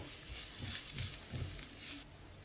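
Canned tuna thoran with chili flakes and pepper powder is stirred in a hot pan, producing a continuous soft sizzle with faint scraping throughout. No one speaks.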